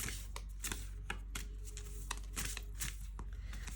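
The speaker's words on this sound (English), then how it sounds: "I have to shuffle it the other way." A large oracle card deck is shuffled by hand in a quiet room, giving a series of quick, soft riffling bursts and taps in an uneven rhythm, close and fairly faint, with no talking.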